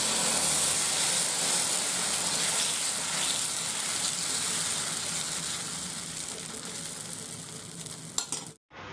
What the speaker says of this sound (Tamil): இதை வச்சு நம்ம இப்போ தோசை சுட ஆரம்பிச்சிடலாம்.